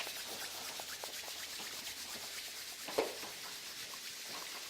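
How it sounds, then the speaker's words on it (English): Palms rub together to warm them during a self-massage routine, giving a soft, steady, faint swishing with one slightly louder brush partway through. "Or rub your hands warm."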